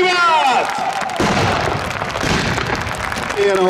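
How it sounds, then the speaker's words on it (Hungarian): Crowd claps and cheers at an outdoor fortress-day festival with military heritage reenactors, a dense steady roar of applause filling the whole moment, with a voice briefly audible at the start. "Egy nagy tapsot kérnék szépen!"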